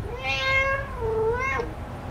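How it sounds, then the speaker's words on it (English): A cat meowing in the Five Nights at Freddy's Into the Pit video game, two clear drawn-out meows close up, the first long and rising, the second shorter, over a low background hum. "Cat's freaking meowing at me."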